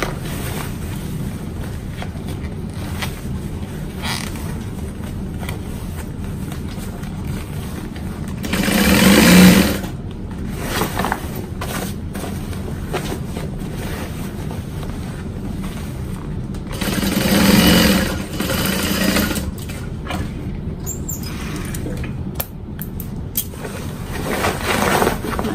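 A sewing machine stitches a duffel bag in two rising, whirring runs of several seconds each, set against a constant noisy background hum with scattered small handling sounds between them.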